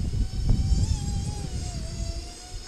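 A Hobby King Swamp Dawg RC airboat runs its electric motor and propeller at low throttle, giving a close, buzzing whine with shifting pitch over low rumble, without voices.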